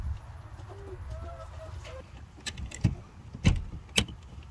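Hens at a muddy ranch chicken coop cluck in short, close bursts over a low background rumble, growing louder and more frequent toward the end.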